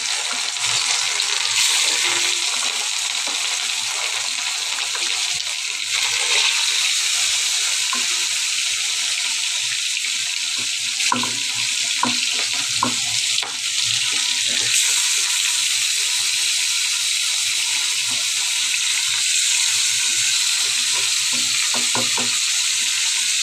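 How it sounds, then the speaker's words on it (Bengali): Marinated rohu pond fish frying in hot oil, a loud continuous sizzle and crackle running steadily throughout, with occasional pops and scraping as the pieces are turned. "এখন মাছগুলো ভাজা করতেছি"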